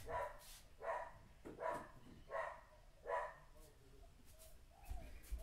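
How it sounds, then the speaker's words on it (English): Several dogs next door bark in a run of five loud, evenly spaced bursts, slightly distant, with quieter whimpering sounds trailing off afterward. "The dogs next door are losing their minds."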